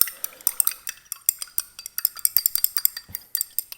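Sea salt stirred into water in a glass with a glass rod, rapid light clinks and taps against the glass in a steady uneven rhythm, close and clear with no talking.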